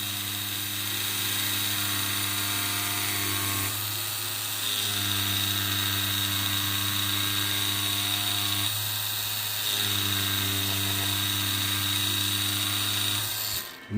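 A 3D-printed coffin-style rotary tattoo machine runs steadily and close, a constant motor hum with a bright high whine, briefly dipping twice as the stroke is adjusted, with no talking.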